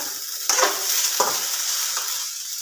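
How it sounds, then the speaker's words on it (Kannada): Okra (bhindi) fries in a pan, giving a steady close hiss and sizzle, broken by a few louder scraping stirs. "ಇವಾಗ ನಾನು ಬೆಂಡೆಕಾಯಿ ಪಲ್ಯ ಮಾಡೋಕೆ ಬೆಂಡೆಕಾಯಿ ಹುರಿಯಾಕತ್ತೀನಿ ನೋಡ್ರಿ"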